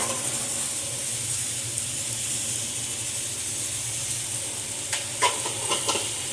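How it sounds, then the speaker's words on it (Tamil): Onions sauté with a little salt in a pan for bitter gourd thokku, a steady soft sizzle and hiss with a few faint stirring clinks near the end. "வெங்காயம் கொஞ்சம் நல்லா வதங்கணும்."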